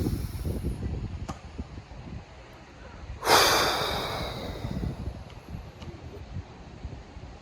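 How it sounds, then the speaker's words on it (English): A single deep inhale rises sharply at mid-clip and tapers off slowly, set against a steady low rumble of breath and wind noise at close range. "You're breathing all of it in, you're gathering it all up,"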